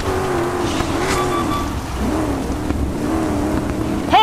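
A rally car roars along in a Dakar Rally video game during an online multiplayer session, its engine droning steadily and loudly with gritty off-road rumble and a brief rising rev near the end.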